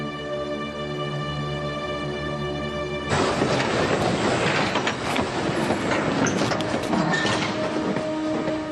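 A 1944 deportation train pulling out of Paris: a steady rolling rumble with clattering wheels and bright metallic squeals building after a quieter hum at the start, fairly close and alone.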